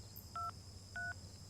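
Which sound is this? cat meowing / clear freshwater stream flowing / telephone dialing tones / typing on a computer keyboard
telephone dialing tones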